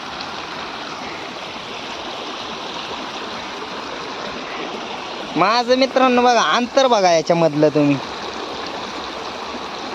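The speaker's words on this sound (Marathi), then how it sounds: "बघा या असं पाणी वाहते" A monsoon-swollen stream in Maval, fouled by wastewater from highway hotels, rushes steadily and close throughout, with someone speaking over it for a few seconds in the middle.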